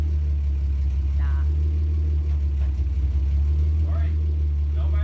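A Toyota Supra engine with no exhaust fitted rumbles loud and raw at a low, unmuffled drone, running steadily up close throughout.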